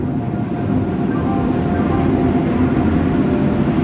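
Indian passenger train pulling into platform 3 of a station, a loud steady low rumble of wheels and carriages rolling past close by, without pause.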